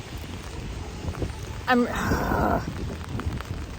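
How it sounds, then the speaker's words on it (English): Heavy rain and gusting wind on a New York City street, a steady broadband wash of downpour and wind noise throughout, with a brief louder burst midway and a voice speaking over it. "it's pouring now and windy"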